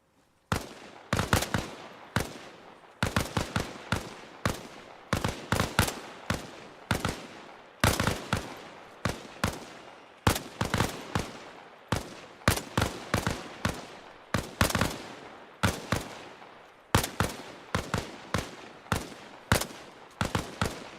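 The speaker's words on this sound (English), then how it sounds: "All right, go ahead and fire when ready." Rifle fire at an outdoor shooting range: a long run of sharp, loud cracks, single shots and quick pairs with short gaps, repeating steadily with no talk.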